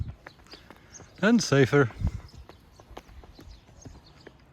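Hooves of a ridden donkey clip-clop at a steady walking pace on a road near Luxor, Egypt, heading to a local market; someone speaks briefly in the middle.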